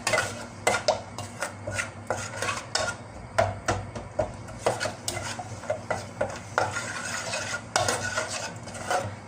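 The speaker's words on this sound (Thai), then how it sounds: "ผัดน้ำพริกผัดพริกแกงด้วยหัวกะทินะคะ" Green curry paste is stir-fried in thick coconut cream for pork green curry, a utensil scraping the pan in rhythmic strokes over a soft sizzle, heard close and alone.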